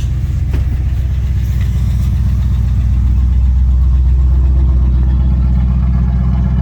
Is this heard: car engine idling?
yes